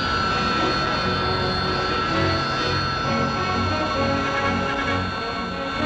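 Hawker Siddeley Kestrel vertical take-off jet aircraft producing a loud, steady, unbroken jet roar that holds at an even level throughout.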